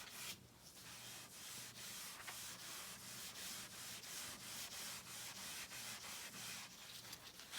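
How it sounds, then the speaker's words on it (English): Rhythmic back-and-forth strokes of sandpaper lightly sanding painted furniture, quiet and close, repeating evenly about twice a second. "So I just do a very light sanding of this over the entire surface."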